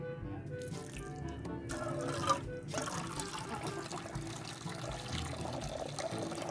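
Water pours and trickles steadily into a container for a pet rabbit, a continuous splashing flow close by that keeps going after a brief sharp knock, with no talk over it.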